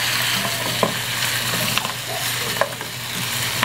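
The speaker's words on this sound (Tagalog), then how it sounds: "Halu-haluin natin hanggang makot lahat ng balat ng toyo para magandang kulay niya habang piniprito natin siya." Food frying in soy sauce is stirred in a pan, giving a steady close sizzle with scattered scraping clicks from the utensil throughout.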